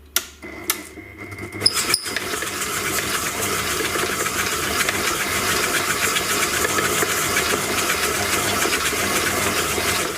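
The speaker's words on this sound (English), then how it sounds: "Now just use your hand mixer or beater, whatever it is you're using, and mix this until it's pale and creamy." After a few clicks and knocks, a hand mixer whirs steadily as it beats a mixture with granulated sugar, sounding loud and close and holding a constant buzzing tone.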